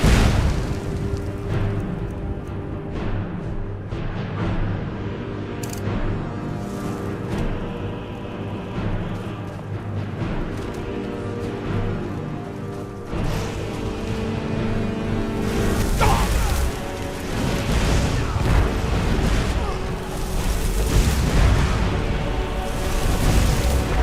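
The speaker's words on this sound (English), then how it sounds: "with the final explosion of the last fireball, peace is restored" Fireball spells explode in the video game Skyrim, a long run of deep rumbling booms and bursts layered over game music, growing louder and denser toward the end.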